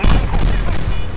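Main gun of a warship firing in a naval combat video game, a loud, heavy boom that fills the whole moment up close, with a deep rumbling body.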